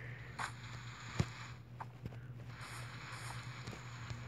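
Hoof clip-clops of a horse in a Minecraft village, a handful of sparse, uneven hoof steps over a steady low hum of game background sound.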